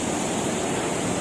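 Pulangbato Falls in Valencia, Negros Oriental, pours down in a steady, dense roar of rushing water heard up close, with no other sounds over it.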